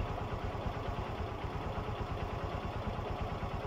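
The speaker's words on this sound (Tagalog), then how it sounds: "Yan yung idle na makina." A Honda TMX Supremo motorcycle engine idles steadily up close, a rapid even low-pitched putter that holds a constant level throughout with no talk.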